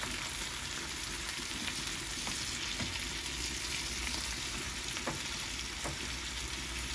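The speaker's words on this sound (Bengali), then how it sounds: "একটু হলুদের গুঁড়ো দিয়ে দিলাম একটু লবণ দিই এটা করলা ভাজি" Bitter gourd fries with green chili, turmeric and salt, producing a steady close sizzle of oil with occasional soft stirring taps and scrapes, no voices over it.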